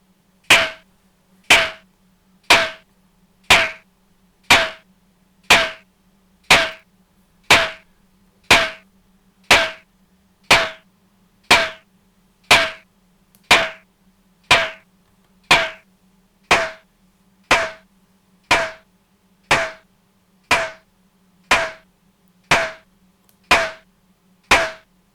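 Synthesized snare drum hits from a Gotharman's LD3 synthesizer, about twenty-two sharp, identical strikes at a steady even pace, each with a quick noisy decay, alone over a faint low hum.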